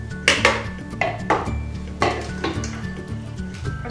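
Pie crust crumbs tipped into a pie pan make several soft pattering rustles with light clinks against the pan, landing in a few short bursts close by.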